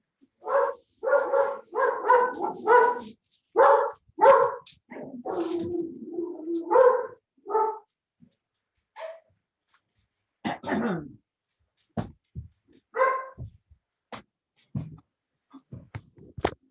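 Several dogs bark in a home, a run of quick sharp barks and yelps in bursts, then scattered single barks and whimpers with pauses between, fairly close and without speech.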